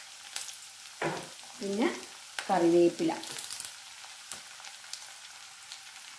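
Garlic, green chillies and curry leaves fry in hot oil for a pickle, giving bursts of sizzling and spattering close by while the pan is stirred. A voice speaks briefly between the bursts.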